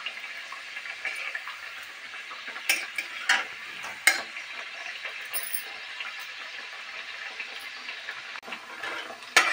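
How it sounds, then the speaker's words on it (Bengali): Colourful mathri frying in hot oil make a soft, steady sizzle with faint bubbling, interrupted now and then by brief scraping clicks of a stirring utensil in the pan. "দেখুন বন্ধুরা, ভাজা হচ্ছে"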